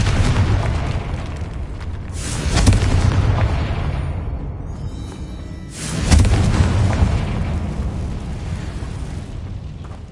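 Confringo fire-blast spells go off in Hogwarts Legacy, two heavy booming explosions a few seconds apart, each with a rumbling tail, loud and close with no speech.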